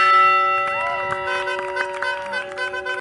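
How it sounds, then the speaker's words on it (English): A bell rung by graduating students outside Burlington High School sounds with sustained, shimmering metallic tones that ring and overlap, repeated strikes keeping the ringing going. "they rang the bell to signify that they are now graduates of Burlington High School."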